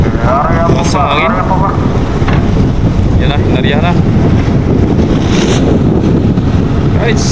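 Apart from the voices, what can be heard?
strong wind on a boat at sea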